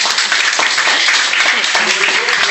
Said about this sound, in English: A round of applause for this man